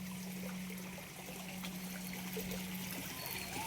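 Water trickling down a stream in the hills, a faint, continuous babble with a steady low hum underneath.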